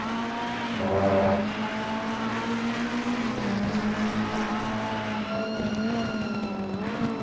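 Race cars lap the Misano circuit in a racing video game, their engines a continuous high whine with rising and falling pitch shifts as they fight for position, loud and alone throughout.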